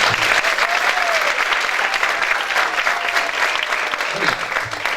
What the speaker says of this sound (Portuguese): mais uma salva de palmas